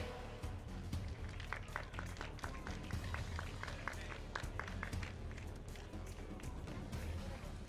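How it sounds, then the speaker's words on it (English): Applause for the winning driver of day one at a karting Middle East Cup event, dense steady clapping from a crowd lasting throughout, with a few sharper individual claps standing out. "a round of applause for number 88, Mark Ristic."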